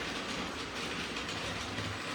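A Bachmann Emily model train with her coaches runs along the track, giving a steady close rolling rumble with light clickety-clack from the wheels, continuous and without pauses.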